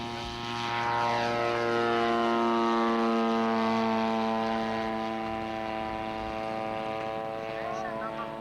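A model airplane's propeller engine winds up for takeoff at a 1991 fly-in, a loud, sustained buzzing whine that holds steady with a slowly shifting pitch.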